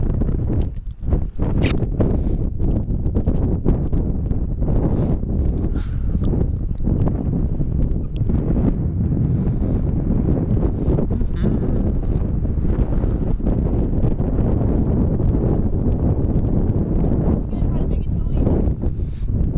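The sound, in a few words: strong wind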